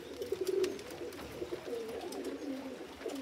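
Kit pigeons coo in soft, repeated, throaty phrases close by, over a continuous background murmur of other birds and a noisy outdoor loft setting.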